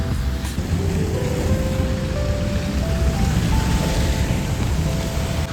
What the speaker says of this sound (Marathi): खूप डेंजर पाऊस चालू केलेला आहे आणि आम्ही पूर्ण भिजलेलो आहे